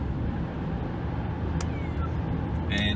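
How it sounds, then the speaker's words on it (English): A cat meows faintly in the background over a steady engine-like rumble, a couple of short cries near the end. "You can hear my little cat in the back."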